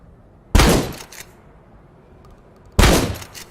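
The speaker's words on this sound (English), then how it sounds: "The next gun that we're going to listen to is the shotgun." Two heavy shotgun blasts a couple of seconds apart, each a loud booming crack with a short decaying tail over faint background noise.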